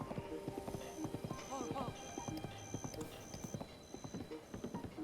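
A horse's hooves clip-clop in the video game Breath of the Wild, a quick, even run of hoofbeats under a spoken voice, with faint repeating game tones behind.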